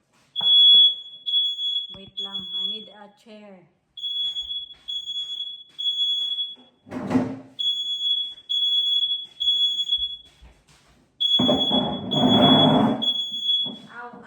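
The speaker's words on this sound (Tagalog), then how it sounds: "Nag-trigger yung fire alarm." A household smoke alarm shrills in repeated rapid beeping bursts while someone cooks in a UK home, loud and near, with someone talking and clattering between the beeps.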